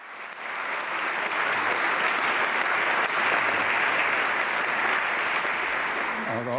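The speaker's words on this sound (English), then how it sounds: "Taavi deserves an applause" An audience at a University of Tartu development conference applauds Taavi Eilat with steady, dense clapping that rises quickly and holds loud for several seconds before thinning slightly at the end.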